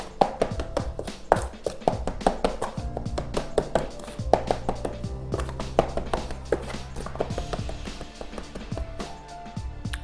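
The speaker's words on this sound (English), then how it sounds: "I'm using this big spatula in order to cut the cold button pieces and combine the butter with the flour and icing sugar" A big spatula chops cold butter pieces into flour and icing sugar for pie pastry. It makes quick, irregular tapping knocks against the bowl, close up, over soft background music.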